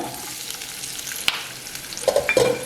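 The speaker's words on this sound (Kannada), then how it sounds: "ಒಂದೆರಡು ನಿಮಿಷ ಹುರ್ಕೋಬೇಕು ಒಂದು ಎಣ್ಣೆಯಲ್ಲಿ ಸ್ವಲ್ಪ ಬಾಡಿಸ್ಕೊಂಡ್ವಿ" Chopped gooseberries (amla) frying in a little oil, a soft continuous sizzle near the pan with a few sharp utensil clicks and scrapes of stirring toward the end.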